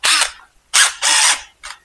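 An impact gun loosening a bolt on an Aprilia RS660 motorcycle, four sharp close rattling bursts of hammering, the longest in the middle, separated by brief silences.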